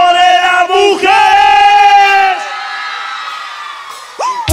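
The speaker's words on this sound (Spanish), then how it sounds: "El grito de la mujer." Crowd of women screaming and cheering together at a live cumbia concert in Arica, Chile, a loud sustained chorus of high shrieks that swells, tapers off, then surges again near the end.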